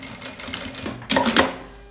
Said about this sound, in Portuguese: faço aqui a costura desse lado, por cima, de todas as alças.